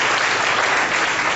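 A church congregation breaks into applause, with dense, steady clapping that stays loud and even for its whole short length.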